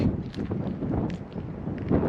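A gust of wind buffets a GoPro Hero 8 microphone fitted with the Media Mod outdoors in 15–25 mph winds, producing a steady low roaring rumble that swells and fades over a couple of seconds.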